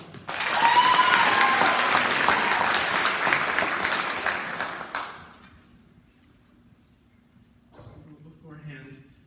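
An audience at a school senior speech claps loudly to welcome the speaker Ben, a dense burst of applause lasting several seconds before fading to quiet, followed by a voice starting to speak.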